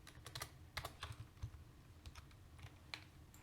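Fingers type on a computer keyboard in quick, uneven bursts of soft clicks and clacks, close up and fairly quiet. No one speaks.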